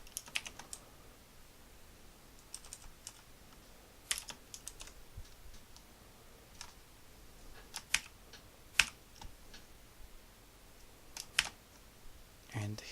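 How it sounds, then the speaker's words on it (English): Soft, irregular keystrokes and clicks on a computer keyboard sound faintly and close by as code is typed, with occasional sharper taps. "So what I'm gonna do actually is I'm gonna type math"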